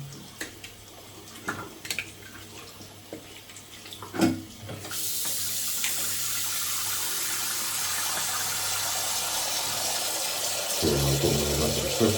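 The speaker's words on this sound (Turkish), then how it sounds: "Elimizi yıkayalım sonra suyumuzu da hazırlayalım." Water from a kitchen or bathroom tap running steadily for hand washing, turned on partway through after a few light handling clicks, a close continuous splashing hiss that changes tone near the end as hands move under the stream.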